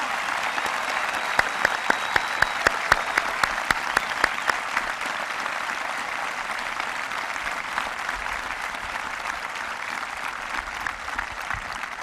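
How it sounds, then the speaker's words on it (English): A graduation crowd applauds students and service members at a high school ceremony, a sustained wash of many hands clapping at moderate distance, with a few sharper claps near the start before settling into an even roar. "Please join me in a big round of applause for these students and all the men and women serving our country, past and present"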